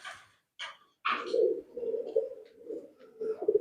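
A racing pigeon coos close by in low, throaty, repeated rolling calls, preceded by a few brief higher sounds, at a pigeon racing event.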